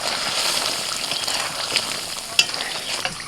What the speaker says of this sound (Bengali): মশলার সাথে ডিমটাকে কষিয়ে নিয়েছি এবার আমি একটু জল দিচ্ছি